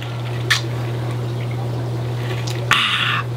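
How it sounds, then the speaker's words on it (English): Ice-cold water is poured into a cup in one short, splashy burst near the end, after a faint earlier splash, all over a steady low electrical hum. "Ah, ice cold water."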